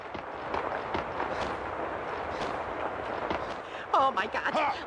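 A series of explosions goes off near an apartment building, heard as repeated sharp booming bursts at a steady, moderate level, with frantic human voices breaking in near the end.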